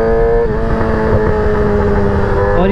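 A Yamaha R6 sport motorcycle engine runs loud and close at a steady high pitch, a strong buzzing drone that dips slightly and then climbs again at the end.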